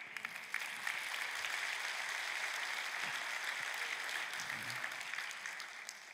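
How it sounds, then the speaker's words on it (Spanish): A church congregation claps together during a sermon, a steady, moderately distant wash of applause holding evenly for several seconds, with no speech over it. "Date un aplauso"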